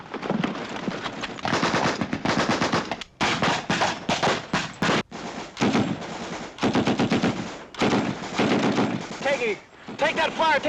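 Sustained bursts of machine gun fire rattle almost continuously in a combat scene, loud and close, with short gaps between volleys and shouted voices mixed in.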